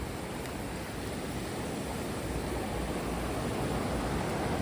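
Steady broadband roar of sea waves washing in where a creek meets the sea at Malgund, continuous and fairly loud with no pauses or voices.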